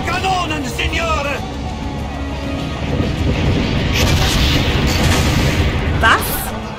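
Cannon fire during a castle siege in Assassin's Creed Brotherhood, with heavy booms and rumbling blasts rolling beneath battle noise while voices shout and speak over the barrage.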